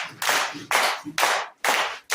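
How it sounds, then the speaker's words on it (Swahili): Hands clapping in unison in a church congregation, four strong, evenly spaced claps, close and loud, with no voices. "Piga makofi ya mtu aliye piga makofi."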